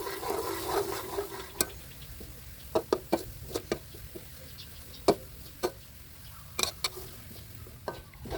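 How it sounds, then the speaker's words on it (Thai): Garlic frying in oil at home, a soft low sizzle beneath a series of sharp irregular clacks and knocks from a utensil against the pan, fairly quiet. "วันนี้ผมเจียวกระเทียมด้วยตัวเองนะครับ"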